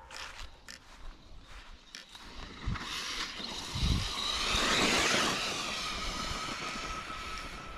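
An RC car with an older, well-used 57,000K Castle motor running at about three-quarter throttle, a rising high-pitched electric whine and rushing drive noise that builds after a few thuds and stays loud and steady to the end.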